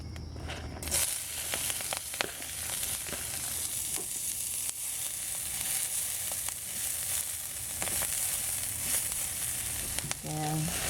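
Green onion frying in a little oil in a pan, a continuous bright crackling sizzle with a few scraping clicks, close and steady, no voices.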